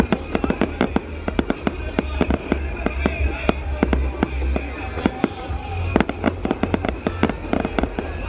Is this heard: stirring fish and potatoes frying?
no